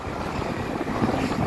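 Strong headwind buffeting the microphone outdoors, carrying blown sand; a steady, loud rumbling roar of wind noise with gusty low thumps and no voices.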